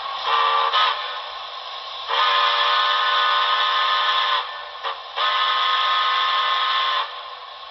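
A Broadway Limited NYC Commodore Vanderbilt Hudson model steam locomotive whistle sounds three times: a short toot, then two long, steady blasts separated by brief gaps.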